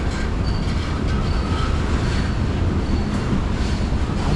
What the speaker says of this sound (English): It's a short train. Looks like it's almost down to its end there.